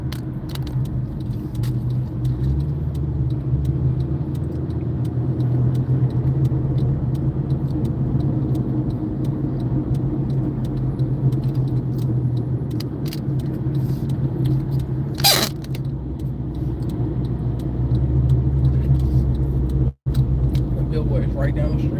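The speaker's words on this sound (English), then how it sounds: "LA traffic is fine" A car drives through Los Angeles traffic on the 405 freeway, giving a steady, close low rumble of engine and road noise that holds throughout, with one brief rushing swell near the end.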